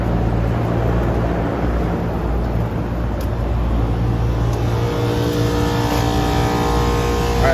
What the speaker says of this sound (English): of my condensing fan motors are running. I have 2 fans running.